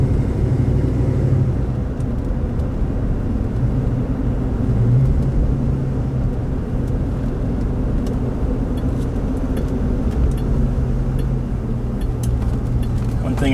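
A 1971 Dodge Coronet's engine pulls hard through a residential street, a steady loud low rumble filling the cabin with little change in level throughout, heard from inside the car.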